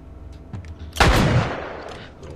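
A single loud gunshot rings out during play of The Last of Us, with a sharp crack that trails off into a lingering echo over faint background game ambience and no talk.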